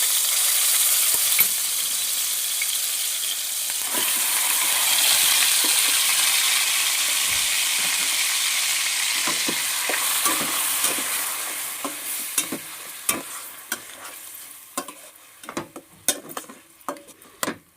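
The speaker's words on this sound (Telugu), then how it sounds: "మరి కొంచెం ఆయిల్ పోసుకుని నాలుగు ఉల్లిపాయలు టేబుల్ స్పూన్ జీలకర్ర నాలుగు లవంగాలు పేస్ట్లా చేసుకోవాలండి చేసుకుని వేసుకుని వేయించుకోవాలి" A paste of onion, cumin and cloves fries in oil with a steady hiss, up close. Toward the end, a spoon scrapes and taps against the pan in quick, irregular stirring strokes, with no talking.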